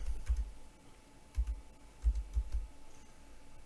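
A few soft clusters of computer keyboard keystrokes as the chkdsk command is typed, short bursts of clicks separated by pauses, close and fairly quiet with no talking.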